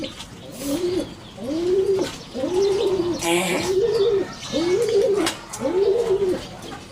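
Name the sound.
pigeons cooing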